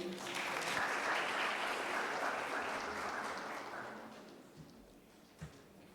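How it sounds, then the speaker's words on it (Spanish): An audience at an evening nursing seminar applauds a speaker, a dense, steady wash of clapping that holds loud for several seconds before thinning and tapering off near the end. "Un aplauso, por favor."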